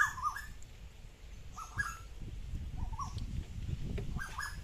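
Two Asian koels perched up high give short, rising whistled calls, repeated several times at moderate distance over a steady rustling outdoor background.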